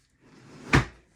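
A drawer in a studio table with shelves slides open or shut, a soft rising rub that ends in one close, solid thump.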